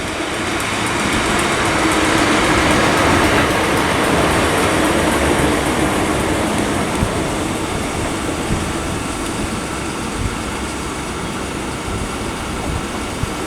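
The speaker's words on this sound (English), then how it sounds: "arriving in now, we've got a South Western Railway service" A South Western Railway electric service arrives at Weybridge station on the South Western Main Line, a loud, steady rumble and rolling roar filling the platform, slowly easing off, with no voices.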